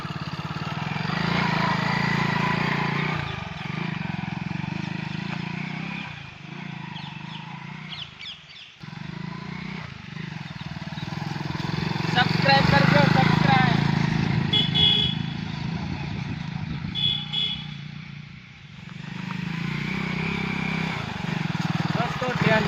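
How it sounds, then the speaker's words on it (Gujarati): A motorcycle climbs uphill toward a hilltop village, its engine droning steadily and close with rising and falling revs, while a voice talks over it for much of the ride. "ચલો આપણે નીકળીએ ઉપર ઠેઠ બાઇક લઈને ઠેઠ ઉપર ચડશું ટોચ ઉપર"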